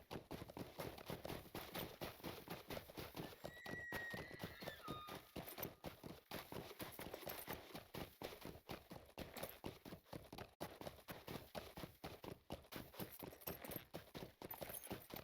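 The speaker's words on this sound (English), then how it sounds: "We might as well get off our horse here." Horse hooves clip-clopping in the video game Lord of the Rings Online, a fast continuous rhythmic run of hoof beats with a faint jingle of tack, steady and quiet throughout.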